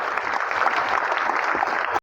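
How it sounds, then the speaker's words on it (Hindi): Audience at a BJP political rally applauding steadily, a dense wash of clapping that runs at even loudness for about two seconds and then cuts off abruptly. "उनके लिए भी ताली बजाओ भाई आप लोग"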